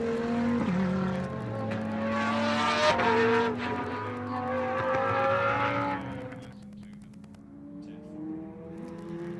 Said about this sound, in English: Let's listen to these great cars navigate Circuit of the Americas